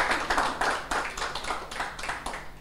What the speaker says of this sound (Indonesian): Saudara semua, tanggung-tanggung mau tepuk tangan aja.